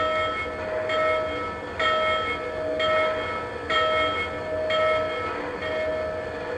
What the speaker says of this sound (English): I like the way that bell kind of fades out when you turn it off.